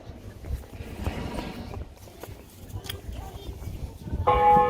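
A church bell rings in the old town of Sandomierz, heard from the street as a few faint tolls in the distance, with a sharper, brighter ring near the end over outdoor background noise.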